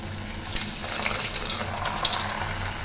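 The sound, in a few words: snack dough frying in hot oil in a kadai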